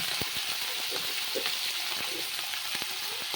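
Boiled snails (googli) fry in a pan with a steady, close sizzle and occasional clicks from stirring.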